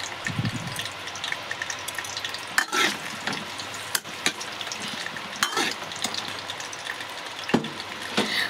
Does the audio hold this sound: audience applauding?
no